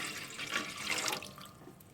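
About three cups of water run steadily into a pan for masala chai for a couple of seconds, a close, splashing rush.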